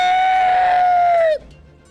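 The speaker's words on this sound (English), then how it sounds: "suddenly you hear this horrific screech" A winged black creature, part worm and part huge drake, lets out a loud, shrill, sustained screech that holds one piercing pitch for over a second, then bends downward and cuts off abruptly.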